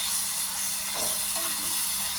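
Ginger garlic paste sizzles steadily in a hot pan for an eggplant masala curry, a continuous close hiss with a slight rise in bubbling near the middle.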